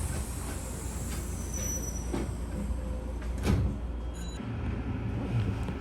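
A Sanyo Railway train departs Sanyo Suma Station in Kobe, rumbling along steadily, its wheels grinding and squealing faintly on the rails. The sound is loud and continuous, with no one speaking.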